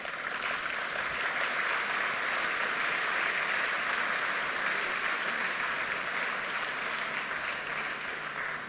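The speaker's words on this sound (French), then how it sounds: "vous pouvez l'applaudir" An audience at a European policy session applauds Enrico Letta as he comes to the stage, with broad, steady clapping from many hands that holds at an even level throughout, nearby and without talk.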